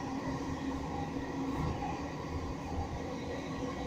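Southern Coastway class 313 electric train riding between Chichester and Barnham, a steady loud rumble of wheels and traction inside the carriage continuing throughout with no talk.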